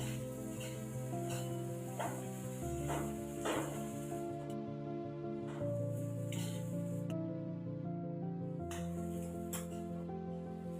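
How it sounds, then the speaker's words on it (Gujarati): Poha flattened rice being stirred together with cooked potatoes in a hot pan, a soft steady sizzle with scraping spoon strokes and occasional light clinks, quiet and close with no talking. "પૌવા નાખી લીધા પછી એને આપણે વગેરે મિક્સ કરી લઈશું।"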